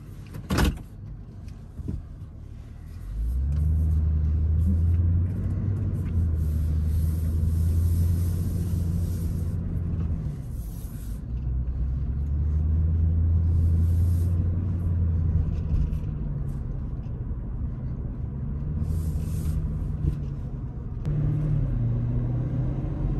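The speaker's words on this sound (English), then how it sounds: "This engine is so smooth." 2021 Toyota Sequoia TRD Pro driving on a dirt trail, its engine giving a low steady rumble that swells and eases as the vehicle moves, heard from inside the cabin.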